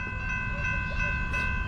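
A Norfolk Southern freight train, symbol 29G, rumbles past westbound with a steady, loud rolling roar and faint rhythmic rail clicks, heard alone without talk.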